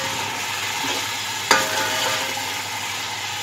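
Tender mutton fries with garam masala and browned onions in a pot, a dense, even sizzle close by, broken once by a sharp clatter of a utensil against the pan.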